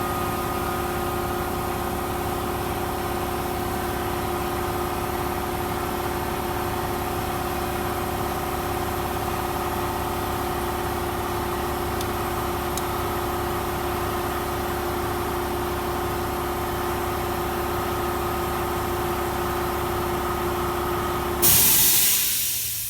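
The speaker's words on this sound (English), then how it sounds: "Wait for that compressor to stop." An air compressor runs steadily in a garage, a loud, even mechanical drone with a constant hum that continues unchanged for over twenty seconds before a sudden burst of hiss as it cuts out.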